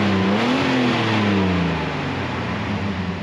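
A Jeep Wrangler TJ engine runs close by with a steady low rumble and a brief rise in revs, with no talking over it.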